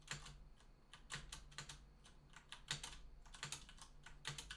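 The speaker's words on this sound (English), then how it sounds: "How satisfying is this keyboard?" Rapid computer keyboard typing with crisp, clustered clicks in uneven bursts, close and fairly quiet, with no voices, recorded during a Minecraft Empires SMP session.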